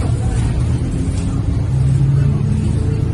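Steady low engine rumble of a bus driving, continuous and fairly loud throughout with a faint hint of background talk.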